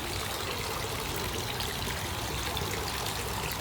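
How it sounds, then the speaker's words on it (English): Water trickling down a garden pond waterfall, a steady, even splashing wash that continues unbroken at moderate volume with no voices. "I fixed that waterfall as well."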